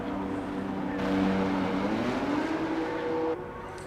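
An F1 car's engine drones steadily in a Monaco racing video game as it enters the pit lane, the pitch gliding then cutting off abruptly near the end.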